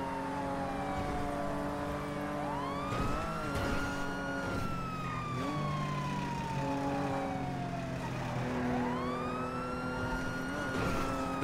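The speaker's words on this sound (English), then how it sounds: "the sirens is the cop behind me" A police car siren in GTA NoPixel cycles between long rising and falling wails and short yelping bursts. It is loud and sustained over the hum of a car engine, with no talking.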